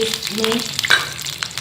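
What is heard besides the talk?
vermicelli frying in ghee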